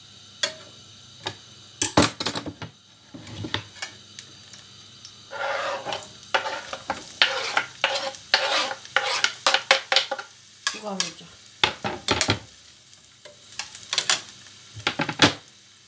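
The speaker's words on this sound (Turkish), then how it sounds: "Onu kavuracağız." Eggplant being stirred and fried in oil in a pan, with intermittent sharp scraping and clattering strokes over a soft sizzle, close and fairly loud in bursts.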